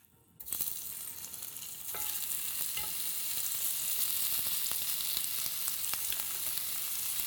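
Bite-sized pieces of food sizzle and fry in oil in a nonstick pan, a loud steady hiss that swells after a quiet start, with occasional stirring clicks and scrapes, no voices.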